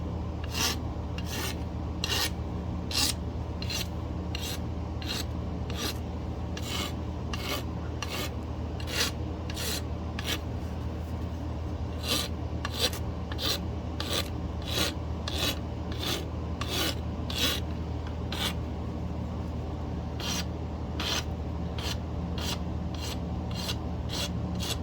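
A file rasps steadily across the edge of a stone tool being prepared for pressure flaking, with regular back-and-forth strokes repeating about every second for the whole stretch, close and even in loudness, with no voices.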